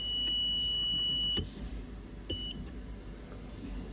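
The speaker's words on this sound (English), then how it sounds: "The buzzer is to indicate that it is in programming mode" A buzzer on an LPC1768 development trainer kit sounds a sharp high beep tone for over a second when the board enters programming mode, followed by a shorter beep and a few soft clicks over a low hum.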